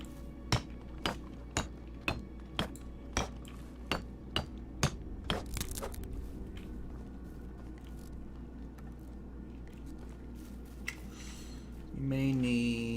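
Hammering while crafting in the Medieval Dynasty video game: about ten sharp, evenly spaced strikes ring out loud and close over a steady ambient hum, then stop; a faint short sound follows near the end.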